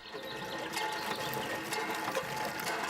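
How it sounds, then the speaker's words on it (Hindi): Water pours steadily from a borewell pump into a container, a continuous close rushing and splashing flow at moderate level. "बस थोड़किन पानी भर लो फिर जाऊँ।"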